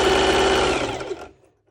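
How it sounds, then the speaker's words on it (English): A sewing machine set to its longest stitch runs steadily and loud for about a second, stitching through double-sided fabric of one colour, then slows and stops. "the setting on my sew machine is on the longest stitch"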